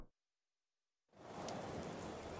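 Rain in the racing game Colin McRae Rally 2005 on a Spanish stage, a steady hiss of heavy downpour that swells in after a short silence and holds loud and even.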